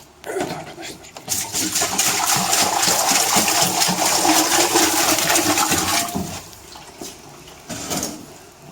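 Clean water pouring into an autoclave during cleaning, a steady loud rushing stream lasting several seconds before tapering off, with brief clunks near the end.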